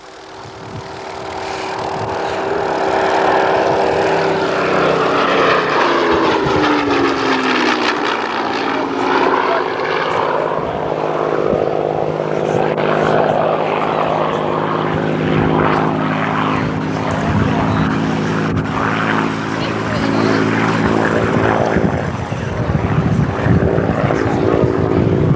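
A vintage propeller fighter engine roars loudly and steadily at an airshow, the drone shifting in pitch as the plane passes by, continuous and close throughout.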